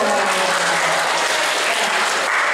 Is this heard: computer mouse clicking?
no